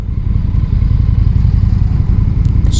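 A 2020 Indian FTR 1200 motorcycle engine rumbles steadily and loudly at a constant low throttle, a close, continuous deep drone with light mechanical clatter and no voices.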